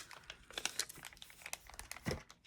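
Pre-cut paper craft materials crinkle and rustle close up in a quiet room, with soft irregular crackles and a few sharper crunches as the pieces are handled.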